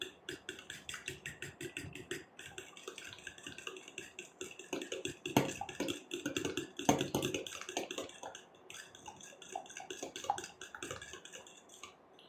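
Eggs with salt and pepper whisked into an omelette mix in a bowl, a steady run of quick light clinks and scrapes of utensil against dish, a little louder in the middle stretch, with no talking.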